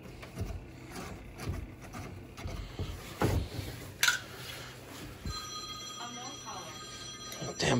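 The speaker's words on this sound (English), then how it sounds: "Phone always rings." In a basement during washing machine plumbing work, a telephone rings in the background partway through, its electronic tones sounding over scattered knocks and handling of tools and wood, with a person speaking nearby.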